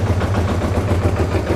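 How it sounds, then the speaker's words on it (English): A Honda XRV750 motorcycle engine runs with the choke on while nearly out of fuel, giving a steady low idling throb that sounds slightly choked and uneven, close and continuous with no talk. "I can hear the bike kind of getting choked out from lack of gas right now."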